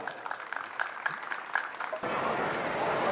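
An audience at a retirement function starts clapping, first scattered, distinct claps, then a sudden dense wave of sustained applause filling the room.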